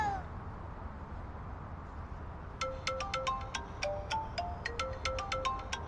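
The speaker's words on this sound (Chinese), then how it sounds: "电话" Partway in, a phone ringtone starts indoors and repeats as a bright chirping tune over a low background hum. It grows louder and keeps going to the end.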